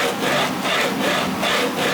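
A guitar headstock angle for a 7-string LP-style guitar being sanded on a sandpaper-lined sled, close rhythmic back-and-forth rasping strokes on wood, about four passes.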